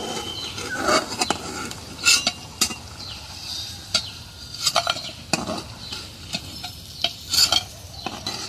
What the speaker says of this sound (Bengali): আগে বড়িটা ভেজে নিই